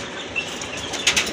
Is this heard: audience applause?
no